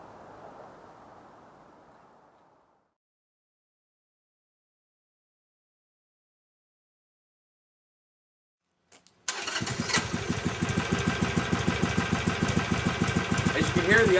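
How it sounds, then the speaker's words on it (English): A motorcycle engine cranks and catches after a brief bit of talk and a silent pause, then idles loudly and close with a steady, throbbing pulse. "I'll fire this up and you can hear what it sounds like now"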